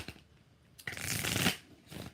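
Tarot cards being shuffled by hand, a soft papery riffle building to a dense whirring burst in the middle, quiet and close, with faint handling noise before and after.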